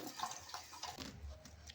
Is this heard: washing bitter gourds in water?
yes